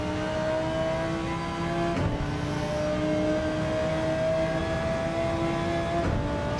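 Porsche 911 race car engines in Gran Turismo 7 at Dragon Trail Gardens drone loudly and steadily, holding a sustained high rev with brief shifts in pitch as the cars run together.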